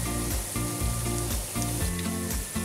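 Fenugreek-leaf muthia frying in hot oil until golden, turned over partway: a continuous, close, dense sizzle with faint overlapping tones and no voices.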